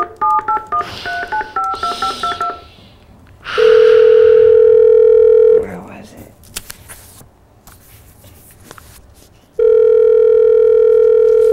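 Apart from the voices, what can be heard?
telephone dialing and dial tone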